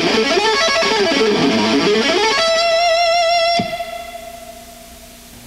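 A distorted electric guitar plays a fast shred lick that tumbles down three octaves in a rapid, wavering run, ending on a sustained held note that rings out and decays; loud, close and solo.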